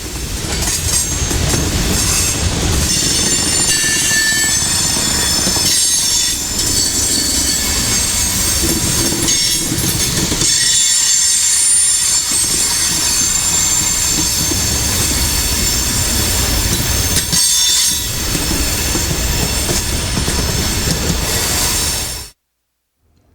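A 14,000-foot freight train rolls slowly past at about 10 mph into a rail yard in Waycross, loud and close, with wheels squealing and clattering continuously until it suddenly stops.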